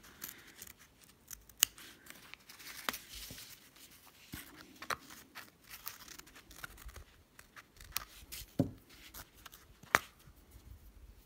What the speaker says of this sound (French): Cette partie-ci qui va nous gêner, donc on la découpe.